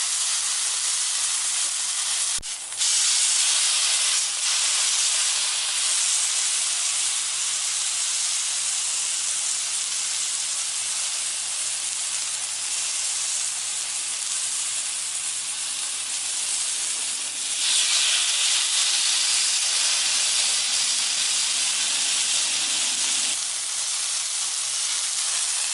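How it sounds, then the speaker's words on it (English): Filet mignon steak searing on a Blackstone griddle, a loud, steady, close hiss and sizzle that runs continuously, swelling slightly at moments, with no talking over it. "We're going to sear it for about a minute on that side, and then we're going to pick it up and sear all the way around the edge."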